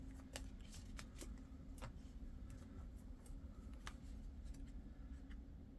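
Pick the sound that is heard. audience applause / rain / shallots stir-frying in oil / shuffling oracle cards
shuffling oracle cards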